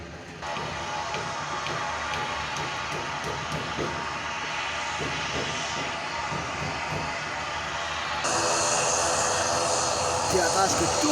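A fixed-wing airplane passes over a building, a steady jet-engine roar that grows louder near the end, with voices in the background.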